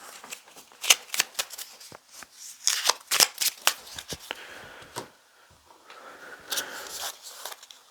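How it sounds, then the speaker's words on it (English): Playing cards shuffle, slap and scatter during a Bloodborne board game session, a close, busy run of crisp papery flicks and riffles that thins out near the end, with no voices. "Oh, I'm dropping cards everywhere."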